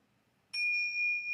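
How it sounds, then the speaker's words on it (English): A single bright bell strikes after a short quiet stretch and rings on with a steady, sustained tone that pulses gently as it decays. There is no talk. "There's the bell."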